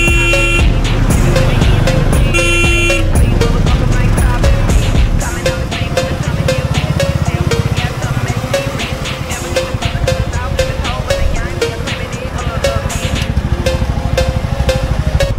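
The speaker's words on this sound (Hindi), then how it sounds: "बहुत ज़्यादा ट्रैफिक है इधर।" Heavy road traffic near a small toll plaza with a long line of trucks, heard from a Royal Enfield Classic 350 as a loud continuous rumble of engines with horn toots, while someone talks over it.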